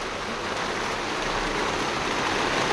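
Heavy rain pouring down outside a bangle shop in Mysore, a steady, dense broadband hiss that holds constant and loud throughout with no voices.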